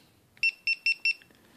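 Four short, high-pitched electronic beeps from a GoPro HERO4 Black action camera sound in quick succession, evenly spaced and clear against near silence.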